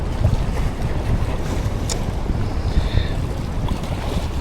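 Strong wind buffets the microphone on an island coast at low tide, a continuous rough roar mixed with surf and waves, with no voices heard.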